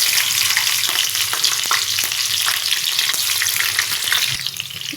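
Green chillies crackle and sizzle in hot oil with cumin seeds, loud and close, a dense continuous spatter with sharp pops scattered throughout and stirring under it.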